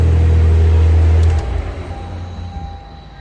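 A Barra-swapped Toyota JZX100 runs with a loud, steady low rumble close by, then shuts off and the engine note fades away, leaving fainter mechanical noise.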